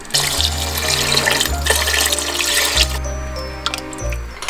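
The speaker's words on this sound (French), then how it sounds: "ensuite je vais ajouter de l'eau" Water pours steadily into a cooking pot in a home kitchen, a continuous rushing stream with a low humming tone beneath it, close and fairly loud throughout with no talking.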